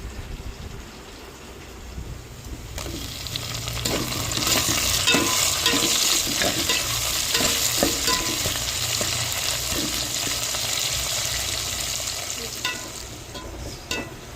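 Onion and tomato fry in hot oil for an anchovy curry, a loud continuous sizzle with scraping stir strokes that swells in the middle and stays steady, with no talking.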